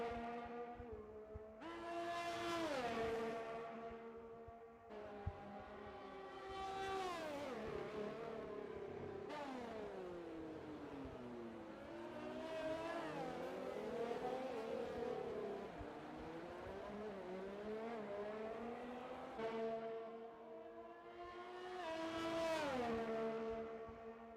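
Simulated F1 race cars in a PC racing game at the Abu Dhabi Grand Prix circuit near the pit exit, engines whining through rising and falling gear changes as several cars pass one after another, loud and continuous.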